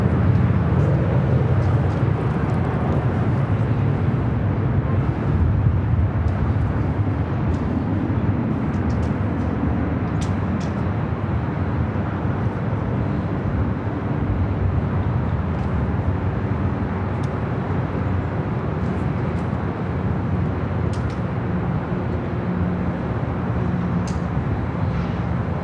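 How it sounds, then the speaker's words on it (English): British Airways Boeing 777-300ER taking off at LAX, a loud steady low jet roar rumbling continuously throughout with little change in level. "We will stay for the British Airways 777 300ER. Flight heading back to London Heathrow"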